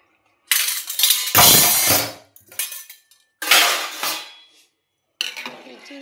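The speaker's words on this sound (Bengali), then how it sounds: "চালটা তুলে দিলাম, এবার একটু একটু নেড়ে দিচ্ছি চালটা।" Rice stirred in a cooking pot of water, loud metallic scraping and clinking in several separate bursts with quiet gaps between them, close and clear.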